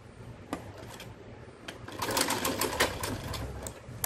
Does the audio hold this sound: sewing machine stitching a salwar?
yes